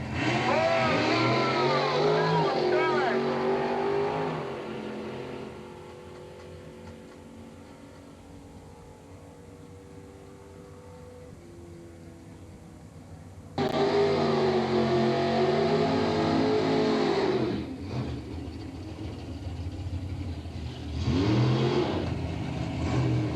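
A 1983 drag race car at Englishtown with a 455 cubic inch Nunzi Automotive engine roars hard and close, then drops to a lower idle, and surges loud again in a second long burst.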